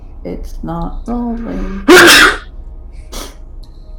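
A single loud, sharp human sneeze bursts out right after a few spoken words, followed by a quieter breathy sound.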